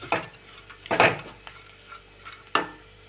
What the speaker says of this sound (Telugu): కారం వేసాక దగ్గరుండి తిప్పుతూ ఉన్నారు ఫ్రెండ్స్ లేదంటే ఇట్లా అడుగున అంటిపోతుంది వెల్లుల్లిపాయ పేస్ట్ కదా తిప్పుతూనే ఉండాలి